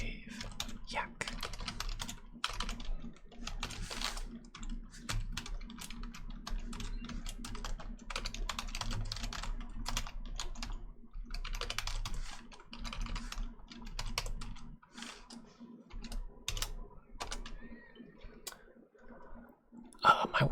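Steady typing on a computer keyboard in Excel, with quick clattering keystrokes in irregular bursts, close and fairly quiet, with short pauses and a soft hum underneath.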